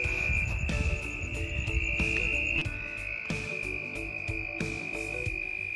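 A chorus of red-spotted toads trilling all around during the Arizona monsoon, a steady high buzzing drone layered with overlapping nearer calls and rhythmic pulses, no voices present.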